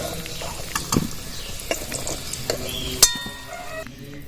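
Potato pieces frying in oil for a ritha fish curry, with a spoon or spatula stirring and scraping the pan: irregular clinks and scrapes over a soft sizzle, close up, a sharper metallic knock near the end.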